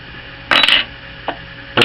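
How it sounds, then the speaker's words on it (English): Lock nut being tightened on an aluminum FTP piston adjustment: two sharp metallic clicks and clanks, a brief louder burst, a faint tap, then another burst, close and alone. "we're just going to lock the lock nut"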